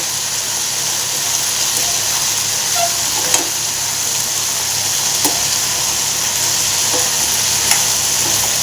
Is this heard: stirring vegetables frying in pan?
yes